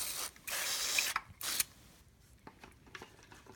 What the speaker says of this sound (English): I just wanted to make sure I give it a good spray down